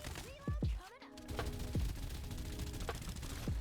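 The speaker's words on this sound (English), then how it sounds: "So now if I'm firing" Weapon fire in Farlight 84, a run of sharp shots with descending whistling tones, spaced irregularly over a busy, continuous game background at moderate volume.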